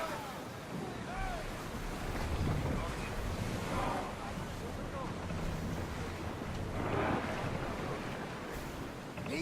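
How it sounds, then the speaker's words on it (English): Open sea under a sailing ship in Assassin's Creed Odyssey: steady wind and rushing waves with swells building and receding, loud and continuous with no clear talk. "Get ready to set sail! Commander is taking the helm!"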